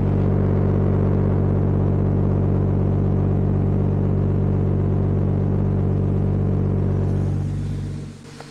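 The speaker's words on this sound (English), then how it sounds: "That's one of the nicest idles I think I've ever heard" A Nissan Stagea's RB25DET engine idles smoothly and steadily at close range, a deep even rumble holding for several seconds before fading out near the end.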